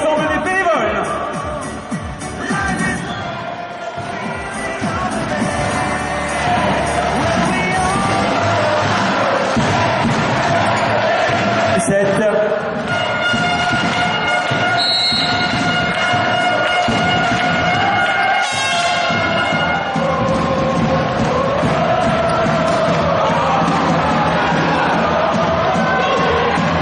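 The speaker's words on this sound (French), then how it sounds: "On peut saluer et applaudir l'ensemble des bénévoles." A large crowd at a 2017 Coupe de France volleyball final cheers and applauds the volunteers, a loud, continuous roar with shouts and sustained horn-like tones. A voice can be heard over it.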